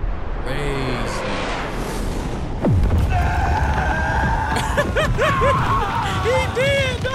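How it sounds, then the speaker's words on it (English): An animated fight scene with a character screaming for his life amid roaring, dense effects noise and rising sweeping tones, loud and continuous, with voices talking over it. "He's screaming for his life, bro."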